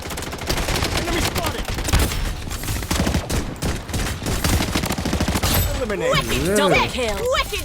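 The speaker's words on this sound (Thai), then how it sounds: "อูซี่เมื่อกี้ ระยะมันไม่ได้ใกล้เลยนะ แต่ว่ามันยิงแรงมากนะครับ" Uzi submachine gun bursts in the shooter game Blood Strike, rapid crackling fire layered with game sounds and music, with people talking over it.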